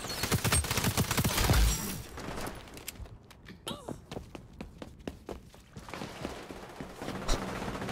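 Sniper and other gunfire in the online shooter XDefiant: a dense burst of rapid shots early, then scattered sharp cracks and reports, with a voice talking over the action.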